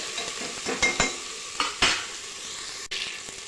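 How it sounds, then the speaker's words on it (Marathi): A spiced rice mixture for masale bhat sautés in a pan with a steady sizzle, broken by several scraping stirs of a spoon against the metal, close and alone. "हे अजून 2 ते 3 मिनिटं आपण छान असं परतून घेऊयात।"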